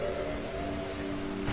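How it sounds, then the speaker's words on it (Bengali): Light rain falling steadily in a village at night with a storm overhead, a soft continuous patter of drops on surfaces, close and even throughout the brief stretch. "বৃষ্টি পড়ছে টিপটিপ করে,"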